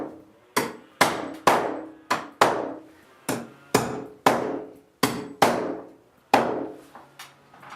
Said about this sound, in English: We're going to put this over here where the wires come down through the top plate and nail them on.